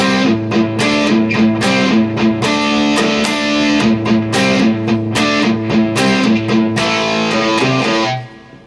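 Distorted electric guitar plays the verse line at a slow tutorial pace, picked notes with steady rhythmic attacks, loud and close, ringing out alone before stopping abruptly.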